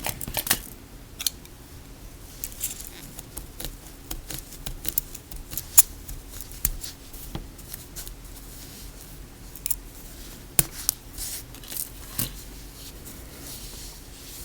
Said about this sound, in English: then I'm just going to trim my thread